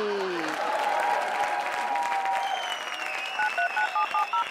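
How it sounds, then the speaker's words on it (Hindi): Applause from a crowd fills the space as a steady, moderate wash of clapping, joined partway through by sustained tones and short electronic beeps toward the end. "बजाओ ताली"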